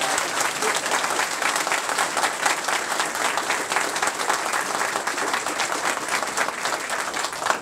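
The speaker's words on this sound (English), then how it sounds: "let's give them a round of applause." An audience applauds a high school junior ROTC group at a speaking event, with steady, dense clapping that fills the room at even loudness for the whole stretch and no talk over it.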